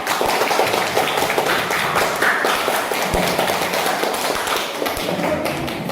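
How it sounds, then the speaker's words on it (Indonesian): A classroom of students claps for a group about to present, a busy, uneven patter of many hands at close range. A few sharper claps stand out, and the clapping continues throughout without talk. "Kasih tepuk tangan dulu temannya."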